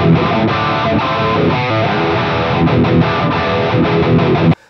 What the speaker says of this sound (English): another amp I want to throw into this list is the DV Mark Marigold Distortion